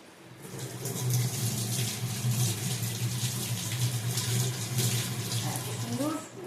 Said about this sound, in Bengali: গাছ থেকে পুদিনা পাতা ছিঁড়ে নিয়েছি, এগুলো আগে ধুয়ে নিই ভালো করে একটু।